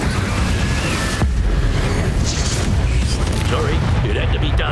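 A Confringo fire spell from Hogwarts Legacy detonates in a loud, dense boom amid a continuous wash of magical combat noise, with a sharp burst near the start and no pause in the rumble.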